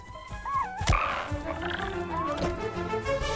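Frog croaks from a frog creature in the dinosaur video game Path of Titans, several warbling, rising and falling calls over a dense, steady game ambience, with a sharp thud partway through.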